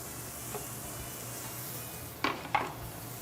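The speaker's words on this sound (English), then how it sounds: "You hear that nice sizzle." Diced onion sizzles softly in hot extra virgin olive oil, a faint steady hiss in a quiet kitchen, broken by two sharp metallic clinks of a spoon against the pan near the end.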